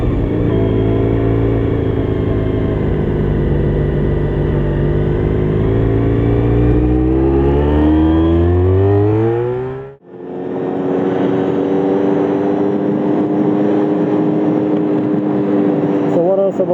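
A Honda RVF400 motorcycle engine is heard while riding on the street with the speed restriction removed. The engine stays loud and close, its pitch climbing steadily through a gear before a brief dip at a shift, then it pulls again under strong wind rush.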